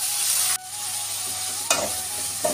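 Onion, tomato and green chili sautéing in oil with mustard seeds and curry leaves, a steady hissing sizzle with a couple of sharp stirring scrapes, near and fairly loud, no one talking.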